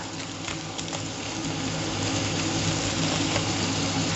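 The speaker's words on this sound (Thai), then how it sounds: "เอาอัน เนื้อลงไปผัดเลยจ้ะทุกคนจ๋าเนื้อ 400 กรัมลงไปผัดเลยนะจ๊ะ ตามด้วยหมูค่ะ" Beef and pork stir-frying with garlic in a pan: a steady, close sizzle and crackle that holds throughout and grows slightly louder, with faint stirring scrapes and no talking.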